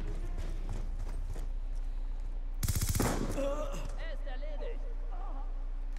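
A short burst of rapid automatic gunfire from a Black Ops II multiplayer match, a tight cluster of shots lasting under a second in the middle, surrounded by quieter game effects and someone speaking German.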